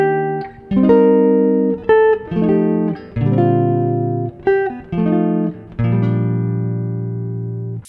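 Jazz guitar plays the original Silent Night chord progression as a chord melody, clean chords strummed in steady succession and left to ring, close and clear with no voices.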